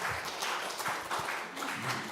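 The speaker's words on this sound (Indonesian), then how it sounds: "Kita beri tepuk tangan." Audience applause at a church seminar in Tangerang, a steady wash of many hands clapping in a room that holds at a fairly even level for the full two seconds.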